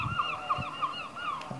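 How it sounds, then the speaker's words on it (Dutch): Plump seagulls perched on a chimney call out in a series of short, repeated squawking cries, fairly close and clear, with a few louder honk-like calls mixed in. "Ik zie allemaal dikke meeuwen op de schoorsteen zitten."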